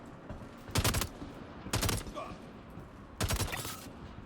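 Three distinct bursts of rapid Star Citizen gunfire strike NPC targets, each a short loud rattling volley separated by quieter gaps, with faint impact sounds between them.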